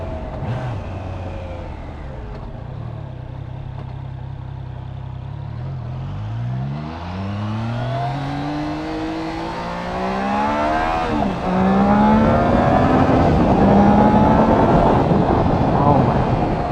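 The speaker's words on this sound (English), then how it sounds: "The ease at which this engine wants to run, it spins so fast and freely." A 2021 Triumph Trident 660 motorcycle engine revs freely on the road, its pitch sweeping up through the gears while wind rushes loudly over the microphone and a rider talks at the start.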